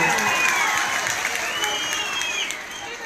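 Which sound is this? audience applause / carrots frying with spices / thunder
audience applause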